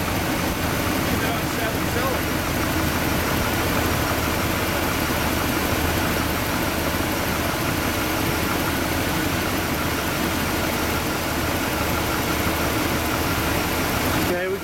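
A Chevy car engine runs steadily on seven cylinders, a continuous close, loud idle drone with no break, while a voice talks over it.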